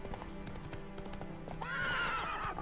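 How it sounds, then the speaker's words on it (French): Steady clip-clop of horse hooves trotting at a brisk, even pace on the roads of Velen in The Witcher 3, close and clear, with a faint background hum and a brief rising tone near the end. "Petite balade à cheval dans les rues, sur les routes de Velen."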